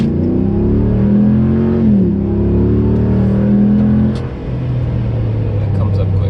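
A 2016 Ram Rebel truck with a new intake accelerating at full throttle from a stop, loud close engine roar rising in pitch through gear shifts, with a brief dip between gears and continuous drone throughout.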